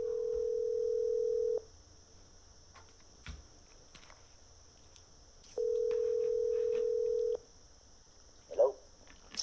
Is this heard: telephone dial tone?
yes